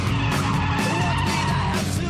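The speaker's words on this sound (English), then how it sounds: "Drifting is when you put your car into a controlled skid around a bend" A drifting car slides through a controlled skid around a bend, its tires shrieking and burning in a continuous loud squeal over a roaring engine, filling the whole short stretch with no pause.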